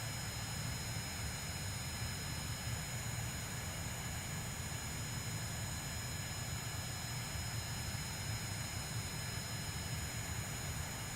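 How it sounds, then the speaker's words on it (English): Steady, loud rocket engine roar from Kerbal Space Program, a continuous dense rumble with no breaks, running alone without voices. "The engine's pretty loud"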